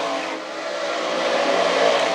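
Modified race cars roar around the oval at Can Am Speedway, a loud, sustained, dense engine drone that swells slightly as the pack motors through the turns, with no talking.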